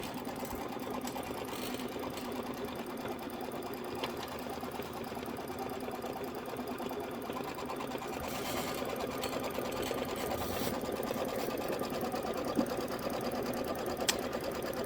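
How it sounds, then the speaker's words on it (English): An embroidery machine sews tack-down and quilting stitches on a Kimberbell Sweet As Pie quilt block, giving a steady, fast mechanical chatter that runs close and continuous for the whole stretch with no talking. "Let's go ahead and we'll do the tack down for the background, and then we'll do the quilting stitches for the background."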